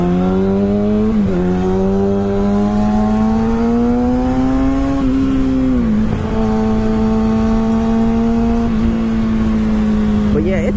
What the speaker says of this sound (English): It's a very nice sounding tuned bike.